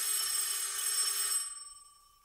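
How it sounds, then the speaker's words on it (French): A telephone bell rings in a French radio mystery drama, a steady bright ring that holds for about a second and a half, then cuts off and leaves a fading electronic tone, with no voices over it. "c'est le téléphone?"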